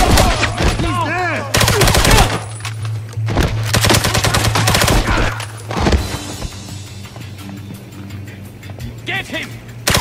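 Heavy automatic gunfire rattles in James Bond 007: Blood Stone during a Monaco mission, with dense loud bursts, a vehicle engine drone underneath and shouted voices in between.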